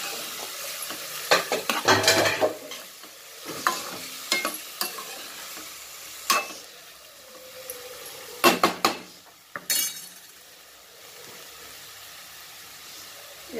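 Cluster beans curry being stirred in a pan, with scraping spoon strokes and clatters over a soft sizzle, coming in irregular bursts and pausing between them.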